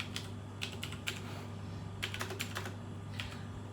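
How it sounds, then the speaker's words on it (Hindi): Computer keyboard typing while a PAN number is entered on an online income tax login page: irregular bursts of close, crisp key clicks over a steady low hum, with short pauses between groups of keystrokes. "आपको अपना पैन नंबर टाइप करना है"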